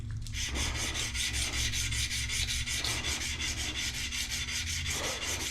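Hardened, tempered Damascus steel worked with 120 grit sandpaper against the grain, a continuous close abrasive rubbing with even back-and-forth strokes and no speech.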